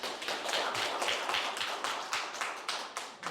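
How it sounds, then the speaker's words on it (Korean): An audience at a Korean book concert applauds a guest as he is introduced, a steady, dense round of clapping that holds throughout with no talk over it. "큰 박수 부탁드립니다."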